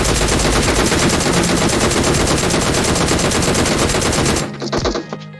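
Rapid, relentless automatic gunfire in a shooter video game, loud and close, a dense continuous burst that cuts off near the end into a few scattered shots and clatter.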